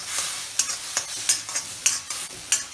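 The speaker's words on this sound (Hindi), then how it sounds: "वो हमारा टमाटर वहाँ पे फ्राई हो रहा है" Tomato frying on high flame in an iron kadai gives a bright close sizzle, punctuated by about half a dozen quick, crisp stirring scrapes in a loose rhythm, with no voices.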